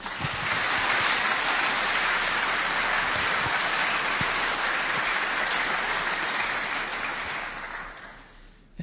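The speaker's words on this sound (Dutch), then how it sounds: "Graag een hartelijk applaus voor Maarten van Rossum." An audience claps steadily and loudly, a dense crowd applause that holds for several seconds and then tapers off near the end.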